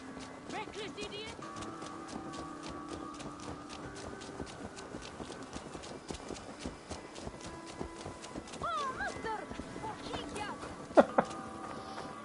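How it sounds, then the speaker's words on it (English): A horse gallops in Assassin's Creed Valhalla, its hooves a fast continuous patter beneath game music and voices, with a brief louder thump near the end. "she rides a horse for them."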